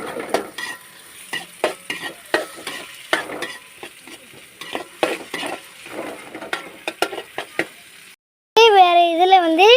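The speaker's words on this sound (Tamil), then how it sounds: "நல்லா பொன்னிறமாக வர வரை நம்ம நல்லா வதக்கிக்கலாம்." Ingredients being sautéed in a pan until golden, with a utensil stirring and scraping in quick irregular clicks over a soft, steady sizzle; a brief pause is followed by a loud, warbling tone that ends the clip.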